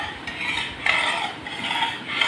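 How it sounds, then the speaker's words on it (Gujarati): A spoon slowly stirs moraiya millet in boiling milk in a pot, making continuous close scraping and clinking with soft bubbling. "એક મોટો કપ એની અંદર દૂધ નાખવાનું છે અને દૂધને ઉકાળવાનું છે અને ધીરે ધીરે ચમચો હલાવતા જવાનું છે"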